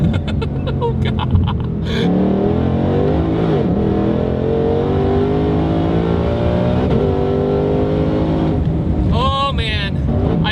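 A 1967 Shelby GT500 V8 roars loud and close, holding a heavy sustained drone that climbs and falls through the gears as it accelerates, with a voice breaking in near the end.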